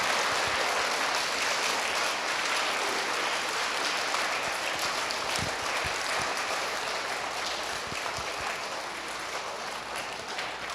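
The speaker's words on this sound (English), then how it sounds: "And you can clap away now. Clap away." Audience applause at an elementary school student of the month ceremony, a continuous distant patter of clapping from a crowd that holds steady throughout, no speech over it.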